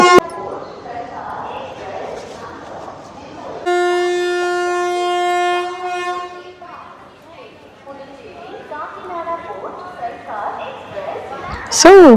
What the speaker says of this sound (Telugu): వన్ ఓ క్లాక్ రావాల్సిన ట్రైన్ త్రీ ఓ క్లాక్ వచ్చింది